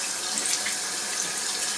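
Tap water runs steadily from a bathroom sink faucet as a nose is wetted before applying a Biore pore strip, a close, even hiss with no talking.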